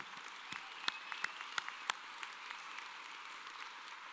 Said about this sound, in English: let's give a round of applause to all of you here today